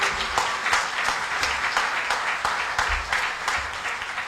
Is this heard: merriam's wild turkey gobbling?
no